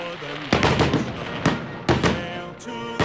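Holiday fireworks bursting over the East River in New York: four sharp, loud bangs at irregular intervals over a low rumbling background, with faint voices underneath.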